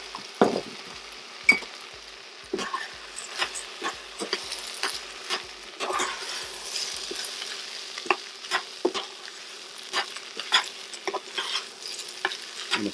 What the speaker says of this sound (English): I'm going to stir them in nicely.